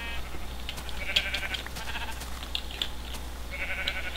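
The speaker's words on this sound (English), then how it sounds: "Gotta love when there's just 10 sheep outside my house." Sheep in the Minecraft video game bleat repeatedly, with several thin, overlapping cries rising and falling over a low steady hum, and no one talking.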